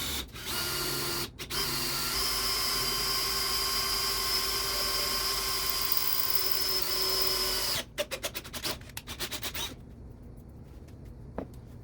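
Power drill boring holes into a homemade DIY file guide for knife making, a long steady whine for several seconds, then a burst of short stuttering pulses before stopping, close and loud.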